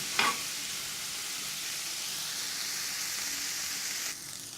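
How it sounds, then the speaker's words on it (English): Chorizo and spices are stirred in a hot pan, a scrape at the start giving way to a steady sizzle and frying hiss that cuts off near the end. "After adding our spices, we'll go ahead and give everything a mix."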